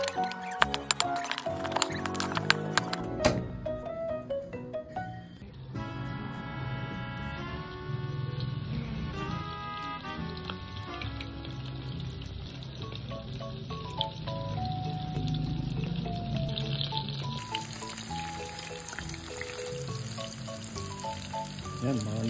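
Oyster mushrooms sizzle and crackle softly as they fry in oil, half buried under steady background music.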